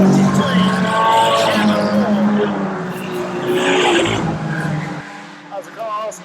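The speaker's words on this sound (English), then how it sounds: "as the cars hurtle past the main stand." Banger racing stock cars roaring past the main stand at a season-opening meeting, a loud sustained engine drone with tyre squeal, under continuous commentary.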